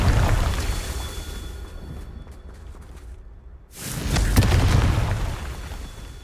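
A Confringo fire spell exploding in the Hogwarts Legacy video game, two loud whooshing booms separated by a near-silent gap, each swelling and then slowly trailing off.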